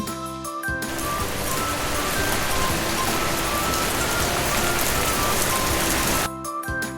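Heavy rain patters densely for several seconds, loud and even, bracketed by short stretches of music at the start and end.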